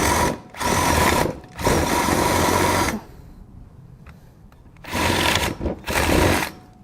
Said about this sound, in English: we're going to go ahead and drill this down by about 1 inch on this side